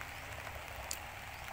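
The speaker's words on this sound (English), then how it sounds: "It started raining, so it's gonna be another half day or something." Steady rain falls on surfaces at a house construction site in the Philippines, a continuous even hiss of drops with no one speaking.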